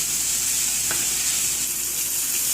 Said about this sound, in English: So I'll need to fry it till it gets little brown in color.